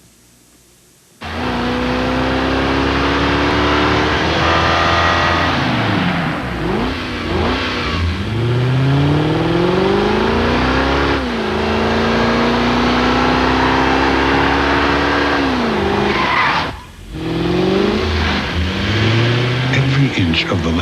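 A Lexus coupe engine revving loudly and up close, pitch sweeping up and down in repeated climbs, with a brief dip near the end before it roars again.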